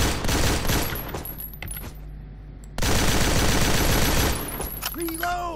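Rapid automatic gunfire from cover in the shooter game Dizzel, loud sustained bursts that drop briefly, then resume at full intensity, ending with a rising electronic tone.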